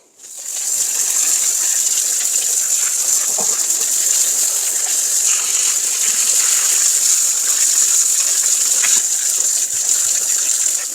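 Peony roots are washed under a strong, continuous gush of water that runs loud and steady for the whole stretch, with faint knocks now and then and no talking.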